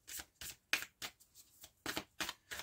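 Oracle cards being shuffled by hand in a series of quick, crisp riffling bursts separated by brief pauses, close and quiet, with no talking.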